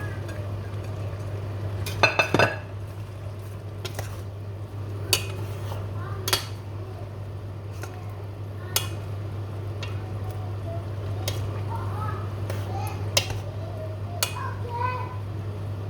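A spoon stirs Isan-style beef om curry in a metal pot, with scattered clinks and scrapes against the pot over a steady low hum. A voice talks quietly in the background.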